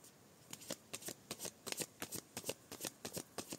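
Tarot cards are shuffled in quick, crisp riffles, a series of soft, close flutters and slaps repeating in an uneven rhythm on a quiet background.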